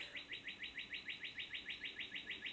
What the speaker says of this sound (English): the birds are really having a good time out there